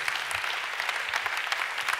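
An audience at a Christian worship gathering claps continuously, a dense, lively patter of many hands that stays even throughout.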